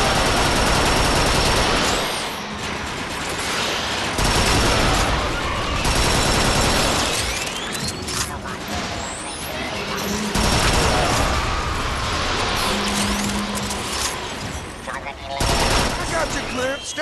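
Dense gunfire and rapid fusillades in the Transformers: Fall of Cybertron video game, loud and continuous with heavy blasts, mechanical whooshes and engine rumble, while game characters talk over the combat.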